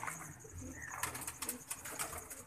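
Ringed pigeons, males and females wearing coloured leg rings in a loft, give soft cooing calls, close by and low, over a faint steady background hiss.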